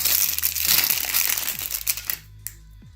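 A plastic snack bag from a Japanese market crinkles loudly up close as it is cut open and handled, dense rustling and crackling that fades to a few isolated crinkles at the end, with no talk.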